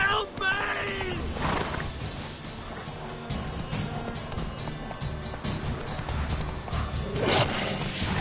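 A horse galloping and neighing in The Witcher: Wild Hunt, fast hoofbeats running steadily under game music and shouting voices, with a whinny rising near the end.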